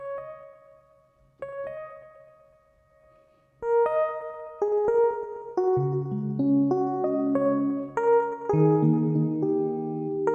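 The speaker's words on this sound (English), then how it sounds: "You can have big crush and reverb." A Sonicware Liven XFM synthesizer plays a slow melody, starting with single tones and building to layered chords, with a trailing reverb tail and a slightly gritty, bitcrushed edge.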